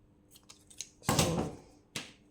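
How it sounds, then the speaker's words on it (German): Fabric edge being trimmed with straight scissors, a few soft snips followed by a louder, longer cutting stroke and then one more crisp snip, close and quiet. "Dann mache ich den mit der geraden Schere, mache den ein bisschen kleiner."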